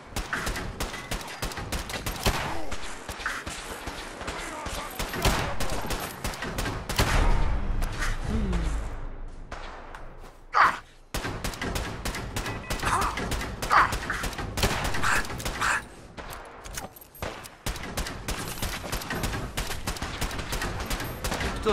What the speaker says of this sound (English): Still shooting me, are you?